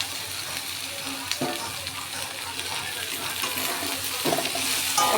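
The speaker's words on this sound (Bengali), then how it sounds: "এখন এর মধ্যে দিয়ে দেবো ভিন্ডি ভাজাগুলো" Fried okra stirred into sizzling masala in oil for a dahi bhindi dish, an even frying hiss with occasional spoon scrapes and clinks, close up, with faint background voice.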